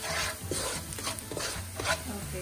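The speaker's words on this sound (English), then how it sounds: "Now we have to saute this onion until it will be like a golden brown." Onion sautéing with salt in a pan while being stirred, a steady scraping, shuffling sizzle with irregular stirring strokes throughout, fairly close and moderately loud.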